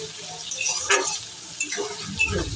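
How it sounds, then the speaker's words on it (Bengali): Chopped onions sizzle and crackle in hot oil in a pan for a prawn and jackfruit curry, with a steady frying hiss and occasional stirring scrapes close by. "পেঁয়াজটা একটু ভাজা হোক।"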